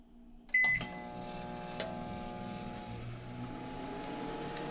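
Full-size microwave oven in a garage, powered from a 12V 100Ah LiFePO4 battery through a 3,000-watt inverter, starts with a sharp click and beep, then settles into a steady, close, humming drone that runs on alone.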